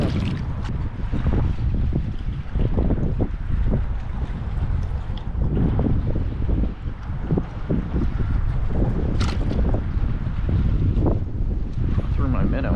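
Strong wind roars steadily across a lake around a fishing boat, with heavy microphone buffeting and faint water lapping throughout.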